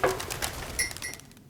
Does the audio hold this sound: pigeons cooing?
yes